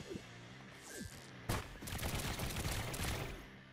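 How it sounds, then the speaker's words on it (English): A box cannon in Trailmakers fires boxes at ten per second, producing a fast, steady stream of sharp thuds and cracks after a few scattered whooshes, sustained and fairly loud to the end. "Now it fires 10 boxes per second"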